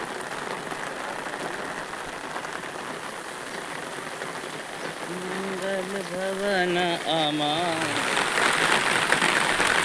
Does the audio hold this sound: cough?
no